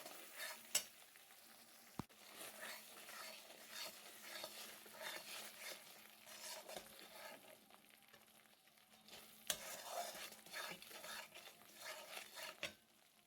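Spice masala with salt frying and being stirred in a pan for a chicken curry, a steady low sizzle broken by repeated scraping strokes of a spoon against the pan, with a few sharper clinks, close and moderately quiet.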